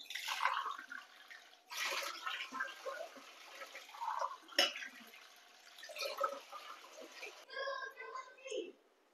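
Water is poured into a cooking pot in bursts of splashing and trickling, with soft voices faintly in the background.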